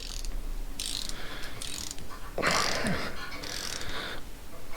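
On a Ford 7.3 Powerstroke diesel left sitting five years, a toothed stud remover is turned counterclockwise on a stud, making close metallic ratcheting and grinding squeaks in several bursts with a louder scrape midway, with no talking.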